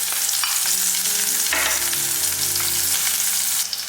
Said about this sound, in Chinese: 接着我们取个砂锅，加入少许食用油，把料头倒进来炒香。